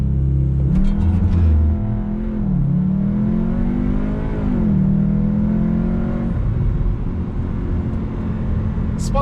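A car with a VW EA888 engine pulls away hard, the loud engine note rising in pitch through the gears with a brief dip at each shift, while the tires spin and scrub against the road.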